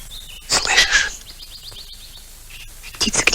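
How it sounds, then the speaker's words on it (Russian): White-sided magpies calling in a forest, bursts of harsh chattering cries near the start and end with a short rapid series of chirps between them, moderately close and clear. "Птицы кричат."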